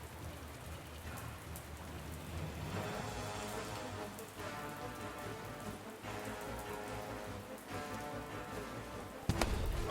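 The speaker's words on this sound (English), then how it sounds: "the wind and the rain covered my voice" Steady rain falls in a VRChat roleplay game scene, a dense continuous patter on surfaces with a faint low rumble and a sharp crack near the end.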